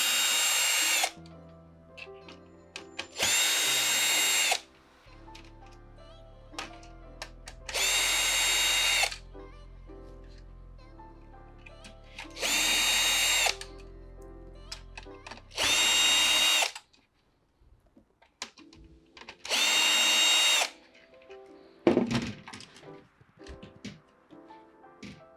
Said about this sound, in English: We're going to remove these screws.